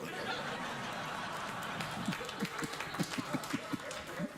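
A television studio audience claps and chuckles, with scattered loud claps rising over a murmuring crowd bed, fairly faint overall.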